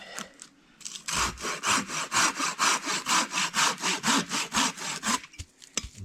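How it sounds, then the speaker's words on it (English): A handsaw cuts firewood at a campfire in steady, even back-and-forth strokes, about sixteen rasping pulls at a regular rhythm, close and clear, with no talk. "Cut your firewood."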